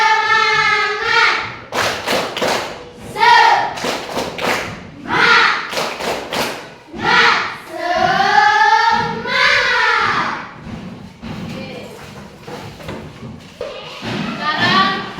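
Tepuk semangat, a rhythmic spirit clap done by a class during an Indonesian school lesson, sounds as bursts of patterned claps and thumps mixed with children's chanting voices throughout.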